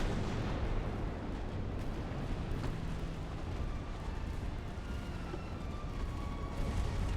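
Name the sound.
naval artillery fire from warships, video game Ultimate Admiral: Dreadnoughts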